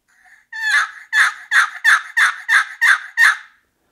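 A wooden turkey box call with a Purple Heart paddle on an Illusion Quick Change body rasps out a soft lead-in note and then eight sharp, loud, evenly spaced yelps, alone.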